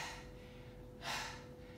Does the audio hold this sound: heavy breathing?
yes